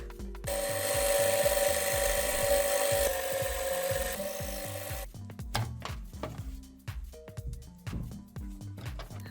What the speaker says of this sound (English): I cut off excess insulation.